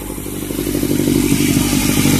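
The turbocharged Honda Civic D16Y7 engine, fitted with an eBay turbo and bigger injectors, idles with a steady, loud, rumbling mechanical clatter. It rises slightly as it goes and carries on throughout, with no voices.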